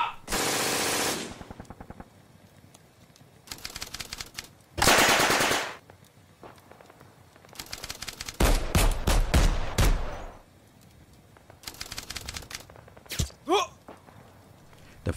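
Gunfire sound effects play during a Bolt Action tabletop wargame battle: loud bursts of rapid machine-gun fire and single gunshots, spaced between short quiet gaps, with no talking.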